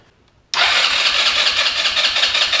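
A GY6 scooter engine cranks over steadily on the starter during a compression test, a loud, even churning with a regular low pulse that begins abruptly after a short silence and continues without firing.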